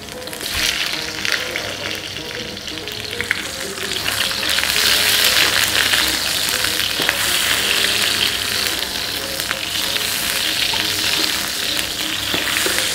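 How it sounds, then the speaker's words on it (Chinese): Ginger sizzling as it is stir-fried in a wok, a loud, constant crackling hiss that swells slightly midway, with occasional stirring clicks and no voices. "爆香啲薑先啦"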